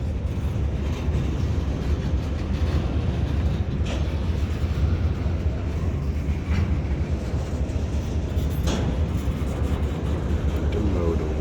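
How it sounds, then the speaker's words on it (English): A CSX intermodal freight train with triple-stacked containers rumbles steadily through the Brunswick yard, a continuous low roar with occasional clanks and squeals, while people talk now and then. "That would be quite the intermodal train"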